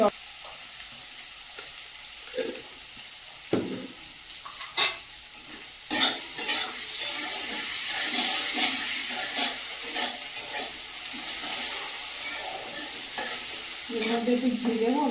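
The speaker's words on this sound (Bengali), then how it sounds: "পেঁয়াজগুলো তাড়াতাড়ি ভাজার জন্য একটু" Oil sizzles as onions fry in a pan for mutton curry, with irregular scraping and stirring sounds growing busier over time.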